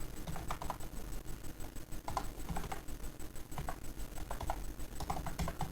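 Fingers tap out commands on a computer keyboard in quick bursts of crisp, close key clicks with short pauses between words, with no talking.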